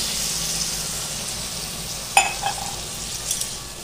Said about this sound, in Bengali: অল্প জল দিয়ে দিব আমি এখন কষানোর জন্য, যাতে তাড়াতাড়ি কষে যায়।